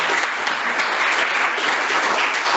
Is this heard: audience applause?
yes